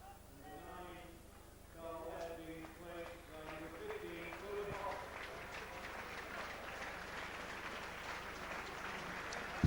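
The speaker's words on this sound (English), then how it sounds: "So applause for Carl Webb as he comes off to be replaced by Tony Hodgson" Rugby league crowd at a 1985 Swinton versus Warrington match applauding a substituted player, the clapping swelling from faint to a broad, distant patter while someone commentator talks over it.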